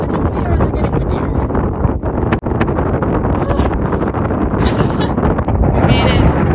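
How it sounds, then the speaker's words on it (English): Strong wind atop Big Walker Lookout Tower buffets the microphone in a steady roar, with brief gusts and faint voices in the background. "Is it just me or is it getting windier?"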